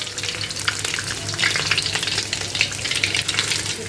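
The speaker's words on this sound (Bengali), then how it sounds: "মানে এই যে এখন চিলি চিকেনগুলো ভাজতে দিয়ে দিছি" Chili chicken with chopped ginger and garlic frying in a pan, loud close crackling sizzle with bursts of spattering and stirring, no speech.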